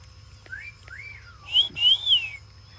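A pet bird imitating a person's whistle with several clear rising and falling whistled notes, the louder sweeping phrases coming near the end over a low steady hum.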